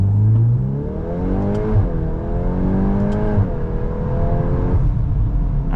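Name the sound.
2025 Volkswagen Golf R accelerating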